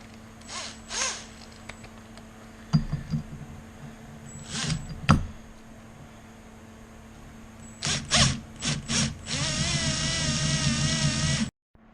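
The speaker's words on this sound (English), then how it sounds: "the next is to put the compressor housing on and make sure that we have it shimmed properly" Compressor housing of a centrifugal supercharger being fitted onto reverse threads, with scattered close metallic clicks and scrapes followed by a steady, loud mechanical whirring rasp that cuts off abruptly, no talking.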